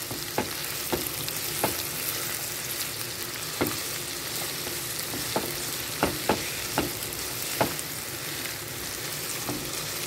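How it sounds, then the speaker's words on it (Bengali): Potatoes fry with onions in a pan under a constant close sizzle, with a spatula's scattered clacks and scrapes against the metal every second or so. "পেঁয়াজের সাথে এই আলুটা একটু ভাজা হয়ে যাবে"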